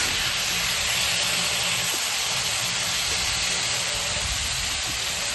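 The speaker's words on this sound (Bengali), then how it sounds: "এদিকে কচু পাতাটা ভাজছি।" Taro leaves frying in a pan give a loud, constant hiss and steamy crackle that holds steady and close throughout, with no talking.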